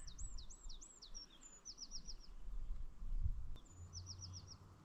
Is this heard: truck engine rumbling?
no